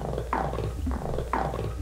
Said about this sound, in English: The sound you're hearing in the background is a loop of tape.